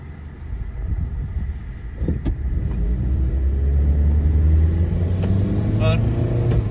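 Car pulls away in evening traffic, its engine rumble building with a rising tone as it accelerates, plus a few brief clicks and a faint high chirp near the end.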